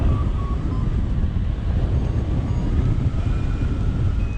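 Strong, roaring wind buffets the microphone at a hang gliding launch site in the Hawkduns, a loud continuous low rumble lasting the whole few seconds with no speech.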